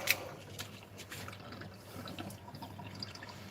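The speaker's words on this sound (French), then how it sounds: "là, on arrête l'écoulement de l'eau froide." Water dripping from a kitchen tap just after the cold flow is shut off, a few faint drips and trickles in a quiet room with no talking.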